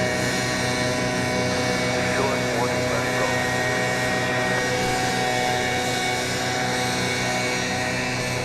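A jet airliner takes off from runway 18 Left at DFW Airport, its engines a continuous, loud, even roar that holds steady throughout.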